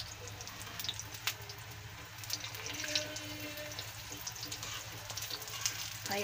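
Potato kebab tikkis fry in a pan of ghee with a continuous, fairly quiet crackling sizzle, dotted with small pops and spatters throughout.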